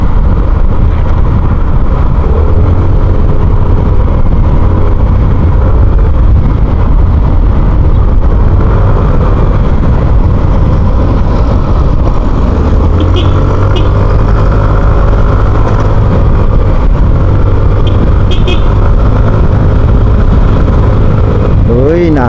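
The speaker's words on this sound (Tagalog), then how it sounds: "ganda ng response itong motor na to, no?" An Easyride TVX 150 motorcycle engine drones continuously while riding, steady and loud with wind buffeting, and the engine tone rises noticeably partway through; someone speaks over it.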